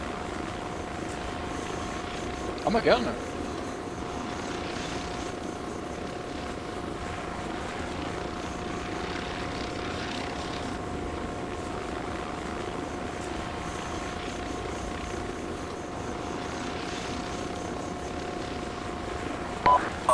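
A helicopter in a video game flies with a steady, moderately loud rotor drone and a sustained engine hum, and a few sharp clicks or bursts sit over it. Someone says a few brief words.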